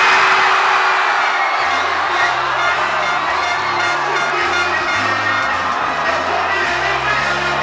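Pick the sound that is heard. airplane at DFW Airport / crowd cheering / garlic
crowd cheering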